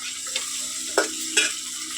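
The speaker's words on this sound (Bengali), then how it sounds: "নুন দেওয়ার পর আদা রসুনটাকে ভালো করে ভেজে নেবো" Ginger garlic paste with salt fries in a pan, a soft close sizzle broken by two sharper scraping stirs of a spatula.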